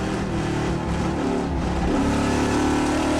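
A Ford Mustang Trans Am race car roars at a road race in Portland, a loud, continuous engine drone with dense harmonics that holds steady for a few seconds with no talk.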